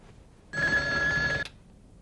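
An old landline telephone bell rings once, a single steady electric trill lasting about a second before cutting off, clear and close in an otherwise quiet room.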